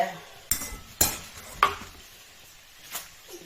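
Wild garlic is stir-fried in a pan, with a few sharp metallic clacks of a spatula against the pan spaced about half a second apart over a faint sizzle, then quieter scrapes.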